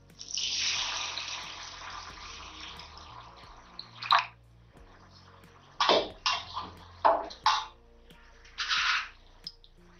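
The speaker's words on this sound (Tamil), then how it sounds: "தண்ணி ஊத்திக்கலாம்." Water poured into a pan of sardine fish curry, a continuous splashing stream at first, then a few short separate pours and splashes with quiet gaps between.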